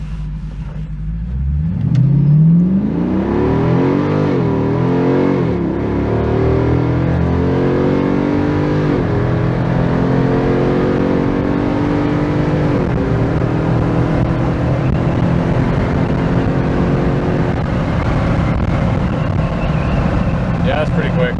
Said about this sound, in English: we're at a abandoned highway for a full throttle pass.